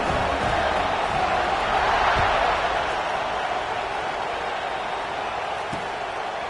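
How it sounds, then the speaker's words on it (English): Stadium crowd noise in a video game American football match, a broad steady roar of fans buzzing after a field goal score, sustained and even throughout. "this crowd is buzzing after that last score"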